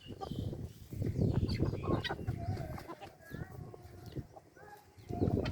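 Chickens forage on the ground for insects, clucking and calling softly at close range amid faint rustling, with a voice murmuring in the background.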